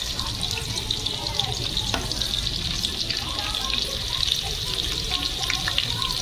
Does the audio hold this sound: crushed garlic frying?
yes